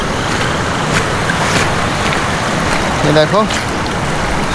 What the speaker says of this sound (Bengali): আমি একদম নদীর পাশে চলে এসেছি, দেখো এখান থেকে জল যাচ্ছে অলরেডি